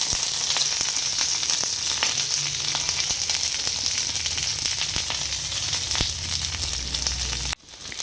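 Shrimp paturi wrapped in bottle gourd leaves crackles loudly in hot mustard oil on a griddle, a dense continuous sizzle with light pops that cuts off abruptly near the end.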